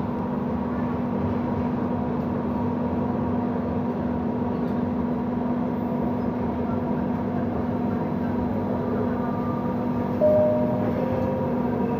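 Steady rumble of a Palembang LRT light rail train heard from inside a carriage, a constant low drone with faint rolling hum throughout and a brief higher tone near the end.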